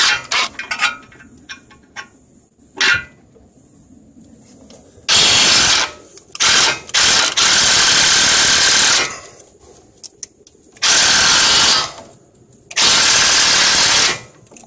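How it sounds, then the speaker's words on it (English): Impact wrench or power tool working a tie rod end on a Volvo S80 during a suspension rebuild, sounding in several loud bursts of a second or two each, separated by quieter workshop pauses with a few ratchet-like clicks. "I'm tightening it and loosening so I could eventually get it off"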